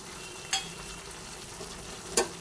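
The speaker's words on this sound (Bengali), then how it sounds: "একটু দিয়ে একসঙ্গে আবার একটু নাড়াচাড়া করে নিচ্ছি ভালোভাবে" Green chillies and fried capsicum sizzling together in a pan: an even hiss of frying throughout, punctuated by two sharp, brief clinks of the stirring spoon against the metal.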